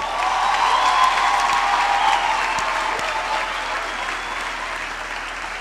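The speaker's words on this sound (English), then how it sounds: "Can we please have another round of applause for the choir?" Sustained, loud applause from a graduation ceremony audience for a choir, a dense wash of many hands clapping steadily throughout with no speech, easing slightly toward the end.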